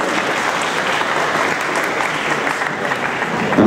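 Loud, continuous applause from a crowd at a press conference in SCC Katowice, Poland, steady clapping throughout with a slight swell at the end.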